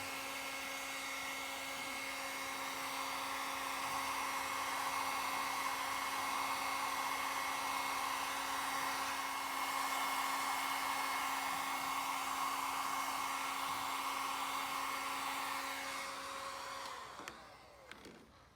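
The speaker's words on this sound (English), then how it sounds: "now we just take a heat gun and evenly run it over the heat shrink" Heat gun shrinking heat shrink tubing on cargo trailer light wires, a steady close whirring blow with an even tone that runs unbroken before switching off near the end.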